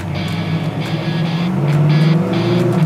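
A hugger orange 1969 Camaro engine warms up in a steady, loud, close rumble with an even throbbing tone that holds throughout and carries no talk.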